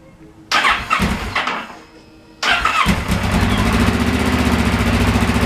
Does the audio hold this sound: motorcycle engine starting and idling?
yes